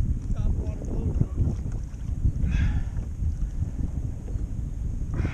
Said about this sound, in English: Wind's starting to kick up too.